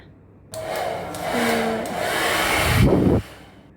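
A hair dryer in a resort bathroom switches on and runs as a steady, loud blowing whirr with a shifting pitch for about two and a half seconds, then cuts off abruptly.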